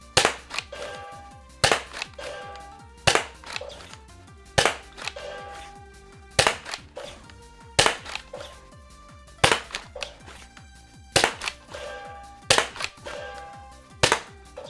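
Nerf gun dart shots at an arcade target setup, each a sharp snap, come in irregular bursts of one to three with short pauses between, alongside faint clacks and rattles of the targets being struck.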